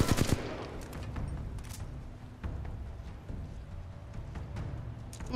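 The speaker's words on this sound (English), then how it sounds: "who's still shooting at me?" Gunfire in the shooter Titanfall 2, repeated shots and bursts over several seconds, with a sharp cluster near the start and steady firing and impacts after, moderately loud game audio with no talk.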